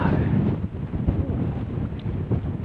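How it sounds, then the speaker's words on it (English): Gusty wind rumbling against the microphone on Pule Hill, Marsden Moor, outdoors, continuous and fairly loud, with no voices. "back out onto the windy hill"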